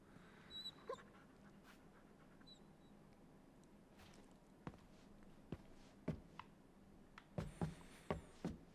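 Dog in the video game Marvel's Guardians of the Galaxy, quiet whimpers, pants and footsteps at first, then a cluster of sharp barks toward the end, alone without talk.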